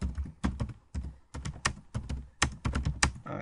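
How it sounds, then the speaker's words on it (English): Fingers type on a computer keyboard in quick, irregular bursts of crisp clicks and thunks, close and clear, with short pauses between runs of keystrokes. "Why am I typing this?"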